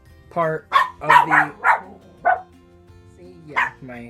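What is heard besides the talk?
family dog barking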